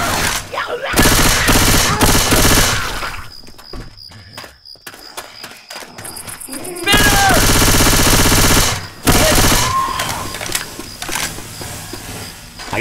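Left 4 Dead 2 gunfire on a highway level of the Dark Carnival campaign comes as loud, dense automatic bursts with a brief lull in the middle and game noise mixed in.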